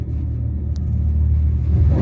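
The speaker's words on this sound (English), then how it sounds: "what this thing is doing is channeling some air in order to blah blah blah and make the noise" An electric car in the racing video game Asphalt 8 gives off a steady low rumbling drone with a faint high whine on top, continuous and even throughout with no combustion-style revving.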